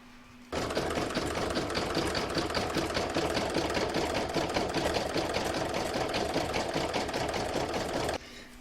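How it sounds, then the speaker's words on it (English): An embroidery machine sews a satin stitch around the edge of an in-the-hoop reversible Christmas placemat, a fast, steady mechanical stitching rhythm running continuously for about eight seconds, close and alone. "I can now pop that back in my machine and stitch round number 8, which is the satin stitch that's going to go all the way round"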